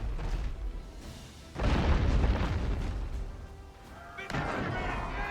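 Mortar explosions in a combat video game, heavy low booms rumbling in several broad bursts one after another, loud and close, with a voice talking over parts of it.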